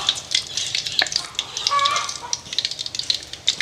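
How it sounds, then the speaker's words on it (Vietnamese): Fish cakes fry in hot oil in a pan, giving a soft, steady sizzle with scattered pops and crackles, fairly faint and close. "Dầu sôi rồi mình để dần chiên."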